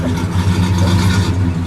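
A 1970 Pontiac GTO Judge convertible with a 400 Ram Air V8 and four-speed rumbles loud and close, a deep throbbing idle with a slight swell of revs throughout.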